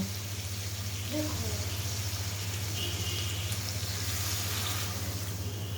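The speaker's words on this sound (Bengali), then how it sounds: "এখন আমি পরিমাণ মতো জল দিয়ে দিব" Water pours steadily into a pot of browned meat curry, a continuous wash of splashing over a low hum, even and close.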